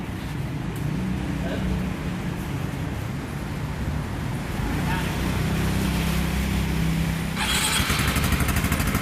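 A Suzuki Burgman 400 scooter fitted with a MIVV exhaust runs steadily, its loud, continuous engine drone and low exhaust rumble holding throughout with a brief rise in hiss near the end.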